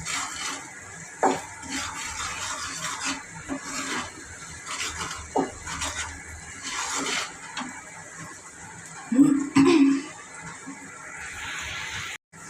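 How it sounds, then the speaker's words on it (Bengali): Food with a little oil is stirred in a cooking pan, a soft continuous sizzle broken by occasional scrapes and clinks of the spoon against the pan, fairly quiet and close. "এই জন্য রান্না করা হচ্ছে একটু তেল দিয়ে"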